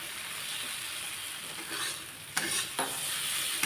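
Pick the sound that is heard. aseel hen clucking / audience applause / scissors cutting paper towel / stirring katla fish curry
stirring katla fish curry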